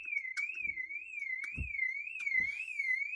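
A nearby car alarm chirps with a rapidly warbling electronic tone that rises and falls in a steady cycle, joined by a few low thumps, with no voices.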